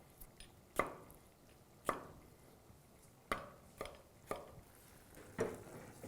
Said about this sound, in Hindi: अभी करी के लिए आम काट लेते हैं, ये थोड़ा बड़ा बड़ा